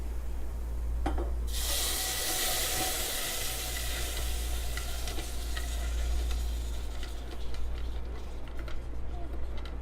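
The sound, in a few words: pouring caramel bites and heavy cream into a pot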